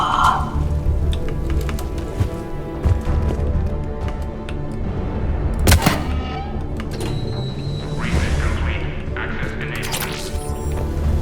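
Gunfire in the video game Mass Effect 3, sharp cracks and thuds scattered through a dense, busy game mix, with one louder crack near the middle and no clear sustained burst.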